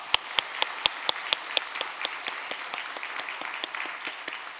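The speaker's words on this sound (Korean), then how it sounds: "우리 세 가족분들에게 박수로 격려하겠습니다." Church congregation applauds three newly registered families during a Sunday service, a soft crowd clapping in the room with a few sharp, close handclaps ringing out at a regular beat above the rest.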